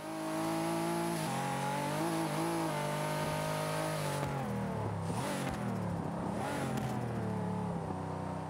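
A Pagani Huayra hypercar in the Forza 5 racing game revs hard through a corner on a track. The loud, continuous engine note dips and climbs as the car brakes and accelerates, with no voices.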